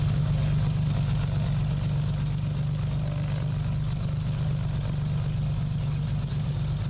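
Loud aircraft engine idling on the ground in a flight simulator, a steady low droning hum with a fast even throb, continuous and unbroken for the whole stretch.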